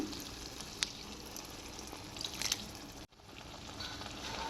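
Tamarind juice hitting hot oil in a pan, a steady crackling sizzle with a few sharp pops and a brief break before the frying resumes.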